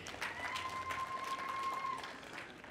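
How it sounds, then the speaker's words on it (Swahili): An audience at a talk on Buhaya history applauds the chiefs, soft and distant clapping spread across a crowd with a faint steady tone running beneath. "Naomba tuwapigie makofi."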